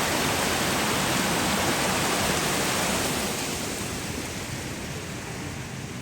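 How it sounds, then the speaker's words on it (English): Steady, broad rushing of a mountain creek tumbling over rocks at about 8,500 feet, loud and continuous, easing slightly toward the end with no voices. "Beautiful little cascading water here."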